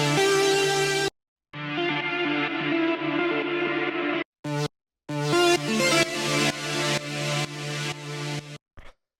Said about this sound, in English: the next thing I'll show you here is the lead, which is made with Diva. It sounds like this.